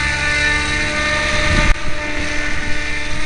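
An Align 700 radio-controlled helicopter flies nearby, its rotor and motor giving a loud, steady buzzing whine with a strong tonal hum, briefly swelling in a sharp surge midway.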